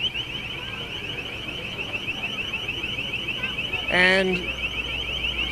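A piercing car alarm wails continuously at a steady pulsing pitch during street unrest in Ferguson, with crowd noise beneath and a brief voice breaking through near the end.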